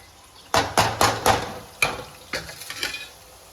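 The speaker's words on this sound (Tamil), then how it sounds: "முந்திரி இப்போ வறுத்துட்ருக்குறேன்" Cashews frying in a pan during a sweet cassava recipe, with a series of sharp stirring scrapes and sizzling bursts coming close together, then more spaced out.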